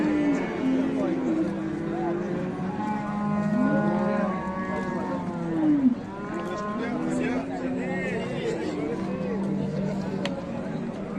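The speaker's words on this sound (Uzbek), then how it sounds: "navbatdagi sigirimiz fransuz ekan" A French-breed cow moos repeatedly in long, drawn-out calls amid a busy livestock-market hubbub, with people talking in the background.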